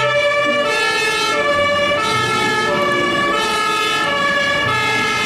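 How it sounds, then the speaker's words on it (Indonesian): Loud electronic toy fire truck siren, cycling up and down in a continuous repeating pattern with a rumbling motor sound underneath. "Mobil pemadam kebakaran."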